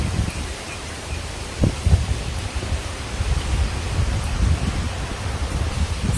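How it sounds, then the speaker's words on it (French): Storm wind roaring steadily as a broad rushing noise with gusty surges throughout, loud and close, no voices over it. "Ah, il y a une tempête, quoi."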